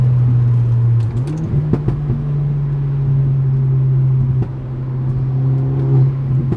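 A Stage 2 Volkswagen Golf R engine pulls hard in fifth gear, a loud, steady droning hum with a strong low tone and a slight rise in pitch, close and continuous.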